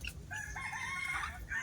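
A rooster crows in one drawn-out call at a hilltop temple, fairly faint and distant, with no talking.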